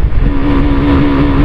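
Motorcycle engine revving on a fast ride, a loud, continuous droning roar with a steady pitch and rushing wind, close and unbroken, no voices.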